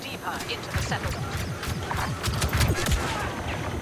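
Rapid blaster gunfire in Star Wars Battlefront II, with dense bursts of shots crackling in irregular volleys from near and far while a player talks over the battle.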